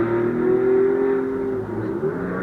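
A lifted Ford Bronco 6x6 Dark Horse truck rumbles steadily while driving, a loud, close, low engine drone that holds even, dips briefly near the end and then recovers.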